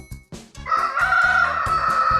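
Loud, close rooster crow: a few short lead-in notes, then a long drawn-out cock-a-doodle-doo held strongly to the finish, with no voices.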